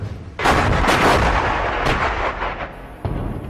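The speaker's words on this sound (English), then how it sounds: "Now they're shooting at us. Artillery." Artillery fire in a 1942 Stalingrad battle game: a loud, close boom rolls into a long rumbling roar, followed by a second sharp blast near the end, with no speech.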